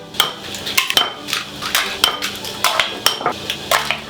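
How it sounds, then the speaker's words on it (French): A whisk beats eggs with sugar in a bowl for crème caramel, producing quick, irregular metallic clinks and scrapes against the bowl, close and alone without talk. "on bat les œufs avec le sucre"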